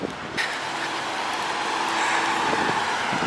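Planters Nutmobile, a giant peanut-shaped vehicle, drives up with a steady engine rumble and road noise that grows slightly louder as it nears, with a brief hiss near the start.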